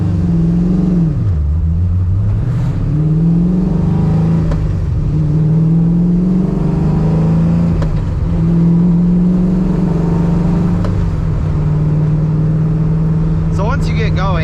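An Oldsmobile with a swapped LS7 V8 engine drives along, its low engine drone steady with a few rises and dips in pitch under continuous cabin noise. Someone talks over it.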